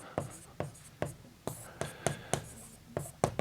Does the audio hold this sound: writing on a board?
yes